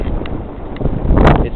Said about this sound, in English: It's nice and cool and breezy.